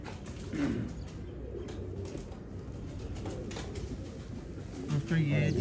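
Champion game-breed pigeons in Lahore coo softly in low, repeated throaty murmurs among general background noise, with a few louder coos near the end.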